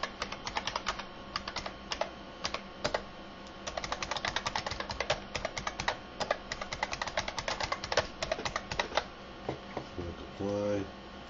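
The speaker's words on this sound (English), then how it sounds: "We'll type in the username." Someone types a username on a computer keyboard, with quick irregular bursts of clicking keys close by and a short pause before a final tap.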